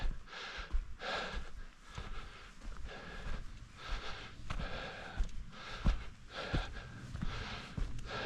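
A hiker carrying a backpack on a trail at Erie Bluffs State Park breathes heavily and rhythmically, with close, loud gasping inhales and exhales repeating about once a second.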